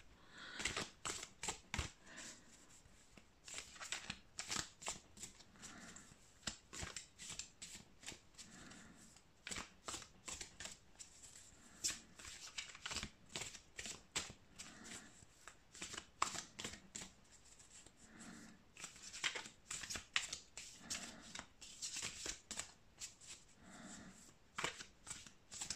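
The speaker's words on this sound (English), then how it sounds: "I'm gonna shuffle some cards." Tarot cards being shuffled by hand in a steady, rapid riffle of crisp papery flutters and snaps. It continues close and alone for the whole stretch, with brief pauses between bursts.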